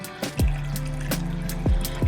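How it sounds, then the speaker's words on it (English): Chicken stock pours into a pot of Jamaican curry chicken, a close liquid splashing and gurgling with a few sharp bursts over a steady low hum, brief and without speech. "Now you just want to pour some chicken stock in."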